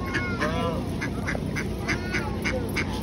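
Farm ducks quack repeatedly in a steady series of close, loud calls, with a person's voice murmuring in the background.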